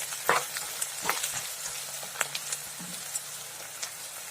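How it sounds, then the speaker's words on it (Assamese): Onions frying in oil with ginger and garlic for an Assamese chicken dish give a steady close sizzle, with a few louder crackles and stirring clatters scattered through it and no talk. "এতিয়া আদা নহৰুৰ লগত পিঁয়াজখিনি অলপ সময় ভাজিম।"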